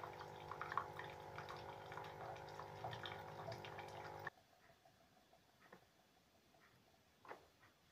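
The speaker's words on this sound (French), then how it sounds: "Tant que je reste sur le bouton, l'eau sort." Hot water streams steadily from a Tassimo coffee machine during a descaling rinse with a pump hum, then stops abruptly halfway, leaving faint drips and small clicks.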